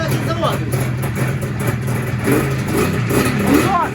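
Izh Jupiter motorcycle engine started with an electric starter after a dead battery, idling roughly and steadily close by with a continuous mid-pitched rumble while people talk over it.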